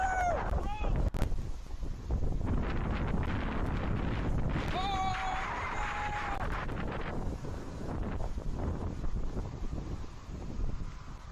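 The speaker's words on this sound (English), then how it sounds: "It's getting really windy." Strong wind from a passing storm roars steadily across the microphone, buffeting it the whole time, with a few faint whistling tones and muffled voices early on.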